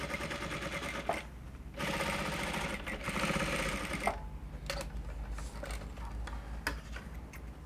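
Sewing machine top stitching along the dart line of a bra cup for a front-zip yoke blouse, a steady mechanical needle patter running in bursts with brief pauses between runs, fairly close.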